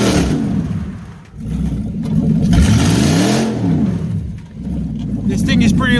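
A 1966 Dodge Coronet on a Chrysler 300 body revs loudly and close, its deep rumble rising in a swelling pass, dipping, then climbing again with a whining pitch sweep.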